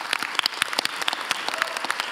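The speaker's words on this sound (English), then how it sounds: "Give yourselves a round of applause." A crowd applauds at a graduation ceremony with dense, lively clapping, many hands at once, steady and close throughout.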